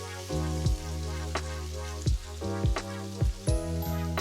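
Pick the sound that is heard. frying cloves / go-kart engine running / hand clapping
frying cloves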